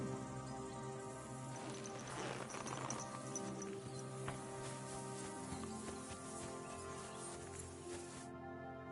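Horse hooves clip-clop at a gallop in Kingdom Come: Deliverance 2, a faint, quick rhythmic patter beneath a steady musical and ambient game soundtrack, with no talk over it.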